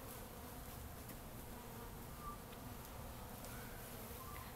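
Honey bees buzzing softly and continuously around an open hive during an inspection, a low steady drone with occasional individual bees passing close.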